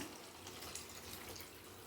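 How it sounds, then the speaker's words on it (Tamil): Water used to grind masala pouring into a pot of okra tamarind curry, a steady close wash of running liquid without a break. "மசாலா அரைச்ச தண்ணியெல்லாம் ஊற்றிக்கலாங்க."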